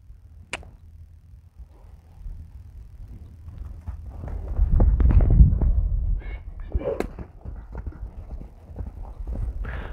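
A horse's hooves thud and clip-clop on the ground as it moves from walk into canter, the rhythmic beats growing louder and closer midway, with faint scattered knocks around.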